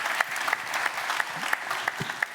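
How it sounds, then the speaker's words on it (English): Audience applause at a live retail pricing conference, steady dense clapping from a seated crowd filling the room, with a few louder individual claps standing out near the front. "Give him an applause, ladies and gentlemen."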